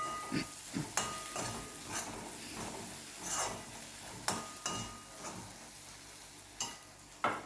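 Spoonfuls of red chilli, turmeric and coriander-cumin powder being stirred into hot oil in a pan, with soft sizzling under a series of sharp, intermittent scrapes and taps of the spoon against the pan, close and fairly quiet.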